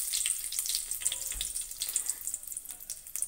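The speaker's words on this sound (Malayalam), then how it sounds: "അപ്പൊ ഇതിലേക്ക് ഇനി കറിവേപ്പില ഇട്ട് കൊടുക്കാം." Curry leaves hit hot oil while an ivy gourd leaf thoran is being cooked, giving a steady bright crackling sizzle with scattered pops, close and fairly loud, with no voices.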